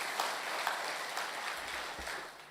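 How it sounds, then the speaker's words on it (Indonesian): Faint, distant applause from a church congregation during a sermon, a soft continuous patter of clapping lasting a couple of seconds. "Tepuk tangan yang meriah bagi Tuhan Yesus."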